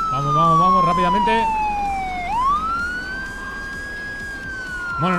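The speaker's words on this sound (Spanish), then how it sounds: "no sé si me oís cuando estoy cerca del coche de policía por la sirena" Police car siren in the video game Enforcer Police, a loud wailing tone that sweeps down, then rises and holds high, with a voice briefly over the start.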